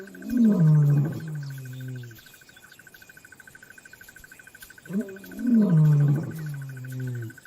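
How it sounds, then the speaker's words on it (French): Lions roar in the African wild, two deep, moaning roars several seconds apart, with steady insect chirring in the background between them. "Leurs rugissements mettent les lionnes et leurs petits en alerte."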